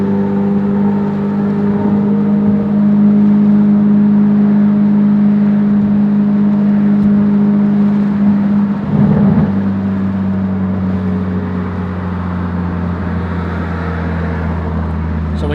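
Exhaust drone of a 2017 Ford Focus RS on the move, a steady low rumble with tonal engine hum that shifts pitch as the car lifts off and settles, loud and close from inside the cabin.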